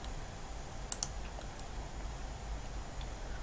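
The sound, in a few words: computer mouse clicking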